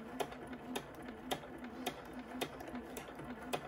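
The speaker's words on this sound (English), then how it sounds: "now we're going to stitch forward, and it's going really, really slow" A sewing machine stitches slowly forward on an ironing board cover, giving faint, evenly spaced ticking stitches about every half second over a low steady motor hum, with no talking.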